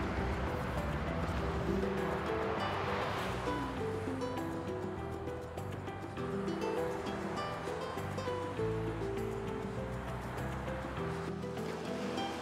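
Sea waves breaking on a shore in Gaza at sunset, a continuous loud wash of surf with a low rumble and faint background sounds throughout.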